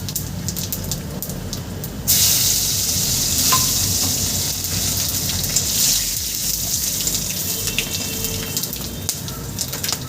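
Dry red chili, cinnamon sticks, fennel and cumin seeds hitting hot oil for a chana dal tempering, setting off a sudden loud hiss that keeps sizzling steadily after an opening quieter kitchen clatter.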